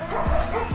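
A dog at K9 handler training gives a short burst of close, loud barks and yips, two quick sharp calls in under a second.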